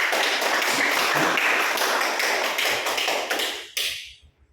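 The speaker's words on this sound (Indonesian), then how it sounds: "Oke, tepuk tangan dulu untuk" A class claps after a group presentation, a steady dense patter of many hands for about three and a half seconds, then a final few claps and a quick fade to quiet.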